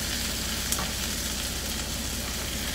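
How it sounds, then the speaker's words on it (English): Steady, dense sizzling and crackling of onions and mushrooms frying in a pan, loud and close, with a brief scrape partway through. "Oh, listen to it sizzle."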